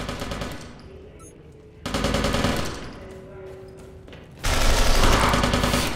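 SMG gunfire in the video game Interstellar Marines comes in loud, rapid automatic bursts, each running for a second or two, with quieter gaps between them and faint background noise.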